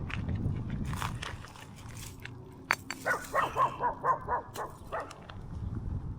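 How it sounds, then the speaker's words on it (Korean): Out at a historic fortress site, a dog gives a rapid run of about six yapping barks, fairly close, after some rustling and footsteps. "멍멍거리네."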